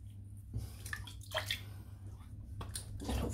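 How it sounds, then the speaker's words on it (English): Water rinses over skin and an arm after a Stirling Deep Blue Sea product, with a steady low running-water wash and a few brighter splashes, close and fairly quiet, no talk. "I'll just rinse off."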